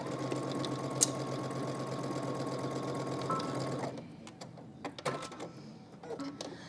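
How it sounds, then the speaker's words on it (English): Sewing machine running steadily as it stitches dress facings with a 5/8 inch seam allowance, a continuous close hum that stops at about four seconds, followed by a few light handling clicks. "Let's go ahead and stitch this together using 5/8 of an inch seam allowance."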